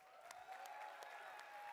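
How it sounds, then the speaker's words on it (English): Applause and scattered crowd noise for a drumline at the EA E3 press conference, faint and distant, with claps blending into a steady wash. "Applause for the drumline"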